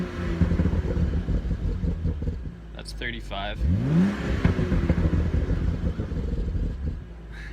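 A warm BMW M235i engine revs up and settles around 2,000 to 3,000 RPM with a rising whine, under someone talking nearby.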